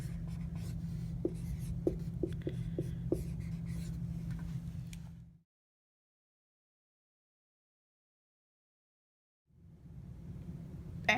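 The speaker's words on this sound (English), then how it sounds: "So you write your answer like this." A pen scratching out a math answer on paper, with short strokes and a few distinct taps over a low hum, breaking into complete silence before the background returns.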